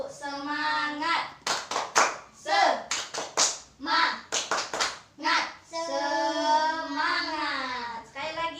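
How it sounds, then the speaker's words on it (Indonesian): A fourth-grade class claps in a steady rhythm, loud and near, while voices chant "tepuk semangat" along between the claps. "Ayo kita tepuk semangat."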